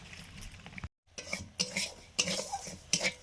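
Semolina dry-roasting in a pan until reddish, a utensil scraping and stirring it in repeated close strokes with small clinks, with a short silent break early on.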